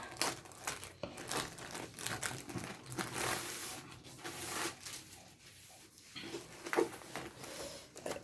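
A diamond painting kit package being unwrapped and opened by hand, close crinkling and tearing of plastic wrap with rustles and small crunches in irregular bursts, fairly quiet, no talking.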